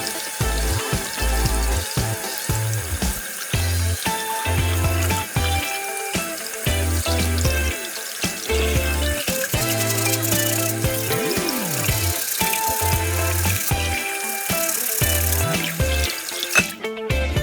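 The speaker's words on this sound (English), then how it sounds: "I'm now washing nuggets in the sink." McDonald's nuggets and chips washed under a running sink tap, a continuous splash of water with handling clatter and rattles from the food and sink, loud and close throughout.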